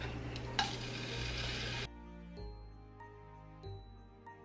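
Shrimp hit a hot pot with a loud burst of broadband sizzling that runs steadily for nearly two seconds, then drops away to quieter, tonal kitchen sounds with a few light clanks.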